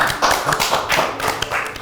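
A studio audience at a talk show on Balinese culture claps for a Balinese musician, a brief burst of dense, close applause with no talking.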